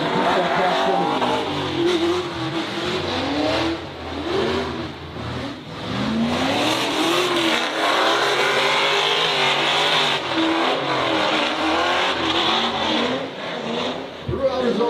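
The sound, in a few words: drift cars racing on a lap, from a drifting livestream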